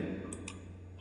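A computer mouse clicks while an email filter is set up in Gmail, giving two quick faint clicks and then a third one a moment later over a quiet background hum.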